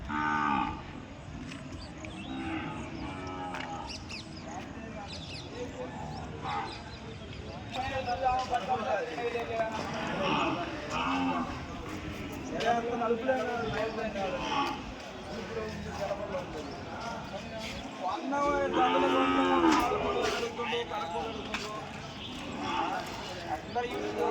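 Young suckling calves moo now and then at a busy Sunday cattle market in Kodad, their calls mixed with hoof clatter and constant talking from people nearby.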